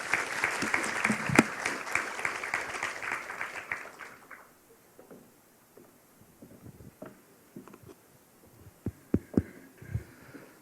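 Audience clapping to welcome a lawmaker at a Korean talk concert, a dense round lasting about four seconds before fading to scattered claps and faint room noise.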